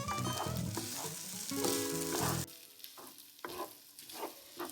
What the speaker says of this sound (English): Keep breaking up the rice and keep mixing in the egg.